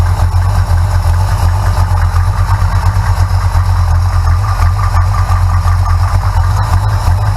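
A big block Mopar engine idles loudly and steadily up close with a low rumbling throb, its fuel pump running, a constant even drone with no talking.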